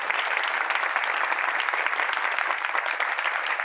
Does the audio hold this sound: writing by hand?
no